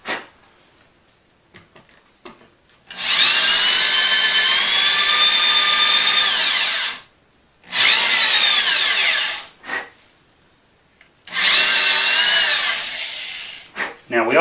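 A power drill bores into African mahogany through a drill guide, whining loudly in three sustained runs of a few seconds each, separated by brief pauses with small clicks and handling noise.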